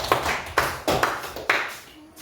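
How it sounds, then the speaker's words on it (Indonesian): A primary school class clapping for a teacher, about five sharp, separate claps in a slow uneven rhythm, close and fairly loud, with a short tonal ring near the end. "tepuk tangan dulu buat Pak Is"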